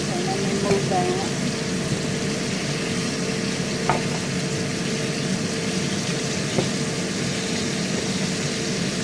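Chicken frying in a pan on a home stove, a steady sizzle with a faint tonal hum and a few soft clinks, continuous and moderately close.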